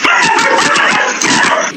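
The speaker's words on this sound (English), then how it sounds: "Here's one chasing a little dog in its yard before another dog helps run it off." A small dog in a yard barks and yips at a coyote, loud, close and continuous, with whimpering edges to the barks.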